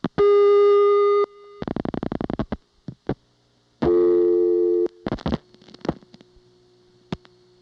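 Old telephone switching tones: a steady tone, then bursts of rapid pulsing clicks, a second steady tone and a short busy signal, followed by scattered clicks and faint tones, close and loud.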